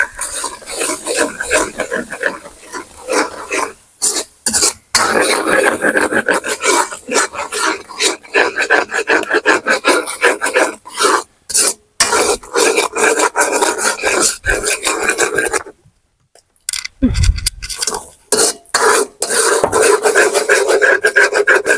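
Puttu kothu with vegetables is stirred in a pan, making loud, close, continuous scraping and rasping of a utensil against the metal, broken by a few brief pauses.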